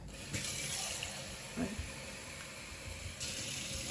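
Tap water runs steadily into a pot to cover peeled plantains for mashed plantains, a continuous soft hissing splash heard up close, with a faint voice in the background.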